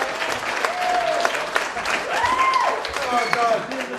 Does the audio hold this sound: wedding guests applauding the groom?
yes